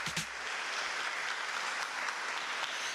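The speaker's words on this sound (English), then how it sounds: "Let's give that a big round of applause." Audience at a scholarship foundation awards ceremony breaking into applause, a continuous, fairly distant wash of many hands clapping that stays steady throughout.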